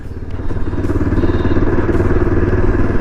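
A Yezdi Adventure motorcycle's engine drones loudly and steadily while being ridden, with a low rumbling tone and some wind buffeting.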